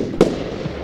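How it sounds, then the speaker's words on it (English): A firework goes off in the Roblox game Lumber Tycoon 2, a single sharp burst over a low background hum, with a faint softer pop just after. "Why are you setting off so many fireworks there?"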